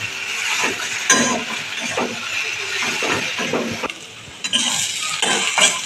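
A spatula clinks and scrapes against a pan as fried spice powder is worked into potatoes for an egg devil. The stirring is loud and close, with steady clattering strokes.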